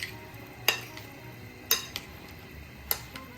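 Utensils mixing a Moroccan potato salad with paprika in a bowl, a few light scattered clinks and scrapes against the dish, soft and close, with no talking.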